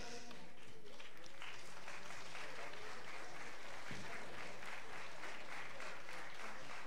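Steady, dense applause from a concert audience at a students' rock academy show, continuous clapping filling the room throughout, with faint voices mixed in.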